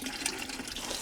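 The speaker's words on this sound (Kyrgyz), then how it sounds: "иш кылганча суу куюп турасыз" Water is poured while liquid vermicompost (biohumus) is being prepared, giving a steady, close splashing rush that lasts the whole moment with no pauses.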